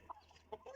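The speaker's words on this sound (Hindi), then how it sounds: "ये हमारे पास मुर्गे हैं" Chickens and a rooster, including a tailless Sindhi-breed rooster, cluck softly in a village yard, with a few short, faint clucks scattered over low background noise and no talk.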